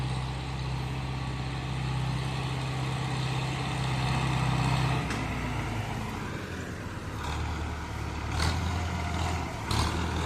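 A Renault tractor coming in after ploughing a field, its engine a steady mid-distance drone that changes pitch partway through as it approaches, with a few sharp clanks near the end.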